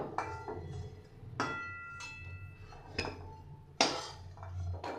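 Freshly fried lentil fritters being lifted into a bowl, with a few sharp metallic clinks and taps of utensils against a dish over a low background hum, no talking.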